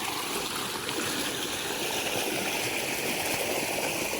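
Water flows through a small irrigation channel beside farm fields on its way to a river, a steady soft babbling trickle, faint and continuous with no voices.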